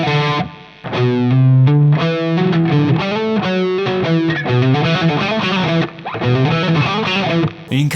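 Heavily distorted electric guitar plays a fast shred lick, dense rapid notes with accented, partly palm-muted phrasing, loud and continuous with brief gaps, no voices.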